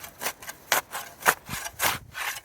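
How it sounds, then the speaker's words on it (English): A garden spade slicing and scraping under turf, about an inch down, in a series of repeated rasping, rubbing strokes with short gritty thuds, close and alone without talk. "We get the spade underneath"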